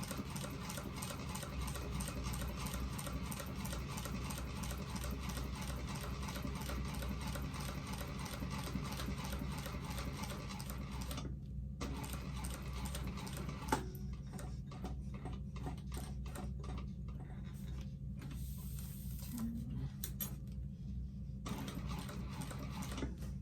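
A sewing machine back stitches along old stitching on a vinyl bag at a 4.5 stitch length, running as a fast steady whir with a ticking needle. It pauses briefly midway, then starts again in short bursts, and no one talks.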